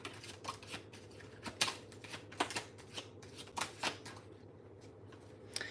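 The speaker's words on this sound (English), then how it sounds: "Let's give it one more good shuffle." A deck of cards being shuffled close up, a series of quick riffling bursts and soft flicks repeating irregularly over a quiet background, with no talk.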